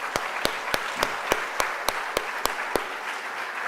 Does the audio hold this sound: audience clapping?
yes